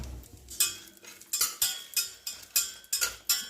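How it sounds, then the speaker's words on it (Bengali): A spoon stirs cashews, raisins, dried red chillies, cinnamon and cardamom in a pot, giving about eight sharp metallic scrapes and clinks in an uneven rhythm, close and fairly quiet. "এটা জাস্ট একটু নাড়াচাড়া করব।"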